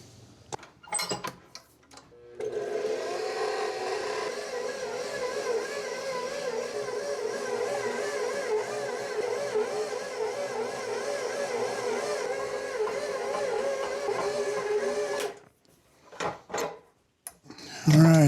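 A stand mixer kneads a batch of bagel dough made from flour, salt, a little yeast and water, giving a steady, loud rhythmic churning and rubbing for about twelve seconds before stopping, with brief clunks at either end.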